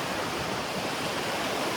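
Rushing river water below a shaking bridge in Takhar, Afghanistan, a steady broadband roar of flowing water that stays loud and unbroken throughout, with no voices.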